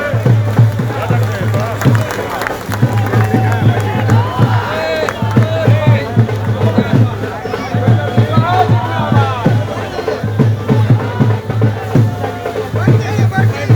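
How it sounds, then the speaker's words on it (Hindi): Crowd at a political rally in Bihar welcoming a former Union minister, with a continuous loud hubbub of voices, whoops and cheering throughout, a steady low hum underneath and bursts of clapping mixed into the din. "कृपया आप सभी ताली बजा करके अभिनंदन करें।"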